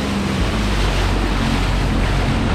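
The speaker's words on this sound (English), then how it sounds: "This is that wind picking up." Strong gusty wind picking up at sea about four miles offshore as a storm approaches, a steady loud rushing roar with low buffeting across the microphone and no talk throughout.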